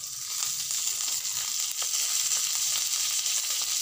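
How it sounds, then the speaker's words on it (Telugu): Poha pulihora tempering with curry leaves fries in hot oil, giving a continuous bright sizzle with small crackles and pops throughout, close up and with no talking. "ఇవి కొంచెం ఈ పోపు అంతా వేగనిచ్చేద్దాం."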